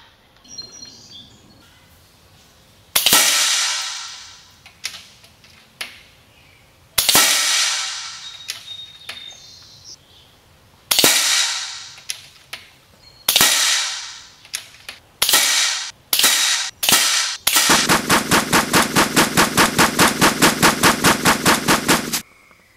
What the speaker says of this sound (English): I'll shoot each clip, 9 shots, into these 3 bowls